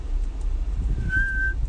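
A brief, faint high whistle rises over low background noise near the end of the moment, a single thin tone.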